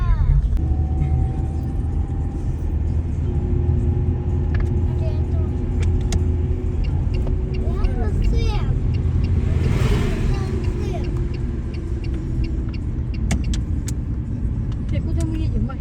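A car drives along a road on the way to the mountains, its steady engine and tyre rumble running throughout, while people talk inside the cabin.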